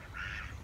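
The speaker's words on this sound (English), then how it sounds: "Got some ducks coming up." Ducks give a short, steady quack-like call outdoors, fairly close and moderately loud over a low background rumble, with no talking.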